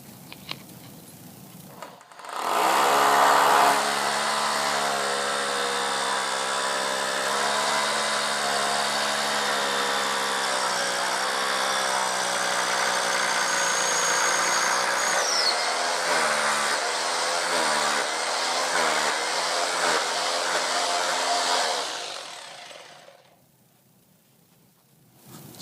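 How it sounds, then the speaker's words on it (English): A loud, continuous whine of a power drill boring a hole into concrete, running steadily for about twenty seconds with a grinding undertone before stopping. "I'm just going to simply drill a hole and hammer it in"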